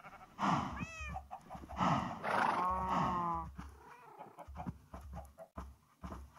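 A horse in Minecraft survival mode gives several short whinnies and snorting calls inside a stable. The calls sound close and fairly loud, with quick gaps between them.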